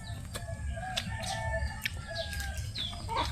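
Poultry on a farm, with a rooster crowing and hens clucking among chicks, several overlapping calls close by over steady low background rumble.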